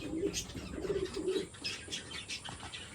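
Fancy pigeons coo softly at night, low rolling calls repeating close by, with faint chirps and light rustling around them.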